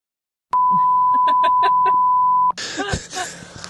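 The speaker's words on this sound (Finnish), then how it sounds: "Mun pitää piippaa sitä aika paljon." A steady two-second censor bleep tone cuts in abruptly over swearing, loud and continuous, then drops out as a voice and room noise return.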